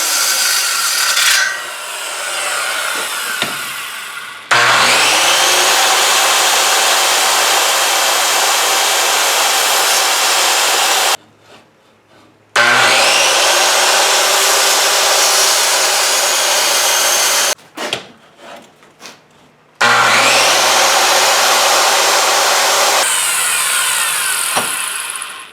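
A power saw fitted with an aluminum-cutting blade cuts through an underbody cover plate for a 2022 Toyota Tundra, with three long, loud, harsh whining cuts separated by short pauses.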